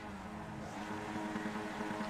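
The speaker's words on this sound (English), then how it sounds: "As we can hear the revs starting to rise." Race car engines in a sim racing game at the start of a race at Road America, a fairly quiet, steady mechanical drone of several cars whose pitch climbs slightly as the revs rise.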